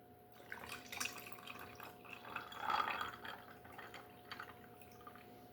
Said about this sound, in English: Take it, pour your concentrate in there.